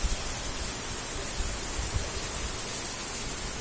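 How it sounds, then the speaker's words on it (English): Heavy rain at dawn heard from a balcony in India, a dense, even hiss of downpour with faint scattered drops, steady and unbroken throughout. "it's raining so much"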